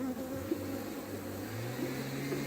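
Honey bees buzzing around an open beehive, a dense steady drone with a few individual bees droning close by, alone without talk.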